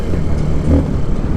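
NK 150 dirt bike with a Honda-based 150cc engine, a steady low rumbling engine note running continuously and fairly loud, with no talk over it.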